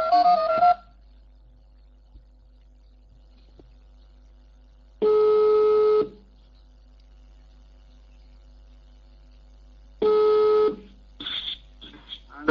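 Telephone tones during a call-in radio broadcast: three loud, steady electronic tone bursts about a second long, separated by near-silent gaps, followed by a short flurry of sounds at the end.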